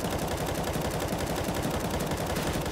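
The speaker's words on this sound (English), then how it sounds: "I'll purposely start moving, shooting, you know, fuck my recoil up, and then have to readjust it" Rapid automatic gunfire from CS:GO, a dense unbroken rattle of shots at steady volume with recoil-driven spraying, no talk over it.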